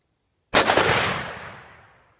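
A single loud, close gunshot from a Remington 600 rifle in 6.5mm Remington Magnum cracks out of silence and rolls off in a long, fading echo.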